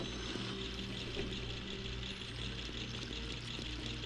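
Water filling a chamber in The Legend of Zelda: Master Quest, a steady continuous pouring rush with low rumbling undertone, constant and fairly close throughout.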